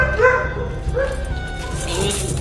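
A bull terrier barks and yips in short bursts, near and loud, with people talking over and between the barks.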